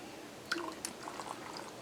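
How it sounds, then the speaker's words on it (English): Hot water is poured from a kettle onto freeze-dried mushroom gravy in a container, giving a faint, brief liquid splash and trickle close by. "I'm going to pour some boiling water, or hot water,"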